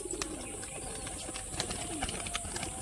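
Pigeons kept as fancy tumbler birds coo faintly in the background, soft low murmuring calls under a steady hiss with a few small clicks and taps.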